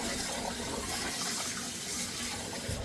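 Tap water runs steadily over raw chicken breast in a kitchen sink, a continuous broadband splashing rush that stays even from start to finish with no talk.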